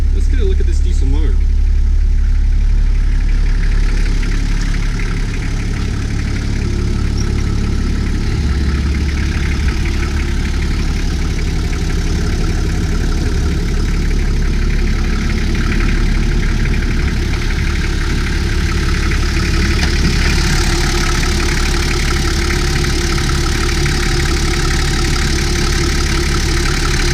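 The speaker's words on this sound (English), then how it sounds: "Let's get a look at this diesel motor." Rebuilt Toyota 1H diesel engine idling steadily up close, a low continuous rumble with even knocking clatter throughout, with a voice talking over it.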